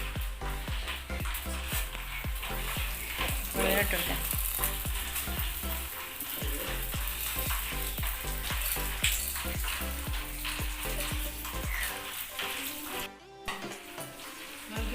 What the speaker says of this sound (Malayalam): ഈ 1 കപ്പ് സേമിയ വറുത്തെടുക്കാം